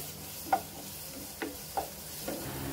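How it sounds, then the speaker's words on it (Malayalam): Two medium onions, finely chopped, sautéing in a pan for curd chicken curry; a quiet steady sizzle with a few soft, spaced stirring scrapes, close but faint. "രണ്ട് മീഡിയം സൈസ് ഉള്ളിയാണ് ചെറുതായി അരിഞ്ഞത് ഇനി അത് നമ്മൾ നന്നായിട്ടൊന്ന് വഴച്ചെടുക്കുകയാണ്"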